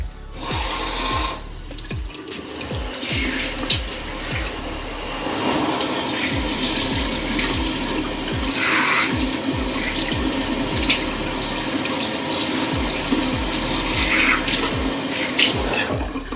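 A faucet runs water into an apartment sink in a steady, continuous splashing stream, with a few clicks and handling sounds near the start.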